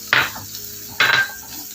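Green chillies in a hot pan get two quick stirring bursts, each a short sizzling, scraping hiss, close and moderately loud, separated by a brief near-quiet gap.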